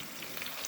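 Chicken pieces fry in a sizzling hot pot with a steady, close hiss and small crackles, and nobody speaks over it.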